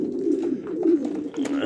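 Steady, continuous cooing from pigeons, a low throaty warble rolling on without pause, fairly close and moderately loud.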